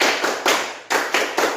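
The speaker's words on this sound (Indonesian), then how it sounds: "Tepuk semangat." A school class doing a rhythmic spirit clap together, sharp group claps in quick patterned bursts with a brief pause midway, close and loud with no talking.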